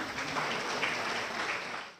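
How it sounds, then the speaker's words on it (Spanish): An audience applauds a speaker at a talk on citizen power, participation and democracy, giving a steady, fairly distant wash of clapping that fades out at the end. "Un fuerte aplauso, por favor"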